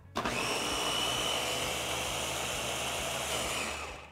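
A blender whirs loudly as it purees a strawberry lemonade mixture for popsicles. A steady high motor whine starts abruptly and runs continuously for several seconds, then begins to wind down at the end.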